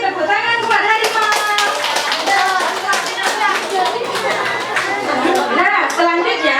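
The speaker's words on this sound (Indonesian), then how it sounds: "Oke, tepuk tangan buat harimau." Children's voices chatter and call out with scattered hand claps mixed in, loud and close throughout.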